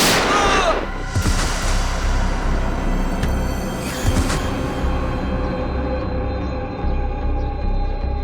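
Gunshots in a tense armed standoff, a sharp loud bang at the start followed by a few booming reports with ringing decay, close and loud with little talk.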